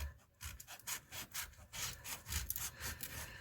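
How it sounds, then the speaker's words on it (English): Sandpaper scratching back and forth across a painted wooden coaster, close rhythmic rasping strokes, roughly two per second. "So I take the sandpaper, and getting as close as I can to the design, I am just going to scratch it up."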